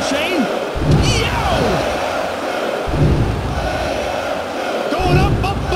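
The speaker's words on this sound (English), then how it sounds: "Oh, this crowd is deafening." A roaring wrestling arena crowd in the PS1 game WWF Attitude cheers in a loud, continuous wash with surging swells, while a commentator talks over it.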